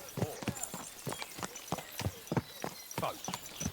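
Horse hooves clip-clop steadily on hard ground in the medieval video game Kingdom Come: Deliverance II, a close, even walking rhythm of about a dozen hoofbeats with faint ambient background.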